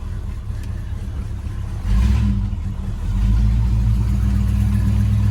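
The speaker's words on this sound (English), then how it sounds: "Motor definitely sounds strong." A 1968 Buick Electra's 455 V8 runs steadily up close, a deep low rumble that swells and holds louder as the throttle opens, with no talking over it.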